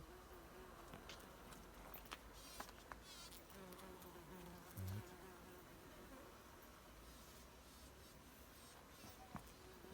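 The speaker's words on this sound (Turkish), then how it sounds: "Bombusarımızın burada da var. Değişik bir ses çıkartıyor şöyle." A bumblebee buzzes steadily and close while collecting pollen from wild rose flowers outdoors, a continuous drone with faint outdoor background.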